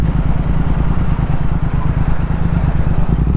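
A Triumph Speed Twin 1200 motorcycle ridden on twisty roads, its engine a loud, steady rumbling drone with a throbbing low pulse, close and continuous throughout.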